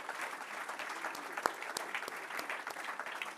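An audience in a hall claps for black men, a soft, steady patter of many hands heard from a distance, with a few sharper individual claps standing out.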